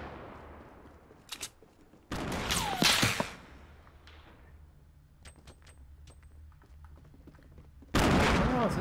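Bursts of gunfire crack out in a Fortnite match on Xbox One, a sharp loud volley early on, scattered faint distant shots in between, and another loud burst at the end.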